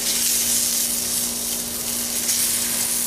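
Mushrooms sizzling and frying loudly on a grill while being stirred, giving a steady, dense crackle and hiss that stays close and continuous throughout.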